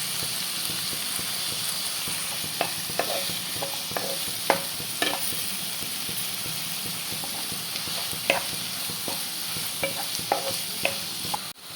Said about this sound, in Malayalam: അതിൽ സവാള അരിഞ്ഞത് ഇടലാണ്.